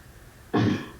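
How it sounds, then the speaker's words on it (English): A single short, rough throat clearing bursts out in a courtroom after a moment of quiet room tone, fairly close and moderately loud. "I wasn't saying anything, I was just clearing my throat."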